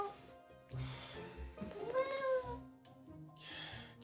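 A person imitates a cat, giving a drawn-out, rising and falling meow in the middle with a few shorter vocal sounds around it. Quiet background noise and some faint talk accompany it.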